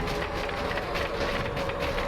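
A small train in the Choo Choo Survivor video game rolls along steadily, giving a continuous loud rumble with a faint rhythmic clatter and no talk over it.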